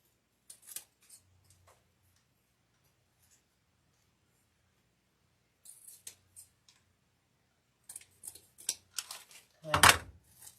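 Scissors snip through deco mesh in scattered clusters of soft, close cuts separated by quiet pauses, ending with a louder rustle of handled mesh.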